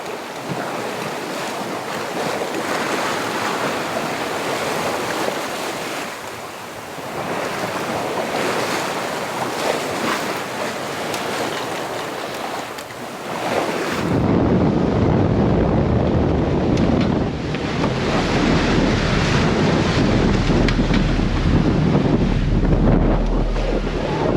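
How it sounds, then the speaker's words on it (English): Wind and breaking waves roar steadily around a sailboat under way at night on a fast passage, with loud buffeting wind noise on the microphone that grows heavier and deeper halfway through. "And the wind has picked up"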